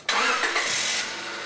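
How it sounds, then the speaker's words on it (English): A car engine is started during a coolant flush service with the radiator filled and a BG coolant transfusion machine connected, firing with a sudden loud catch and then settling into a steady running roar that eases slightly after a second. "Start the engine"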